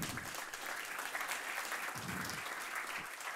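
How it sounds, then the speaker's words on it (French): An audience at a talk on old computers applauds steadily, a dense patter of many hands clapping at moderate volume throughout. "Applaudissements."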